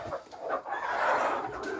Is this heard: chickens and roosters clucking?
yes